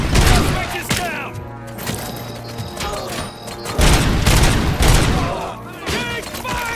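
Gunfire from the video game RoboCop: Rogue City, loud and close, with dense bursts of automatic shots and heavy impacts in repeated waves, plus mechanical clanks and brief shouted voices mixed in.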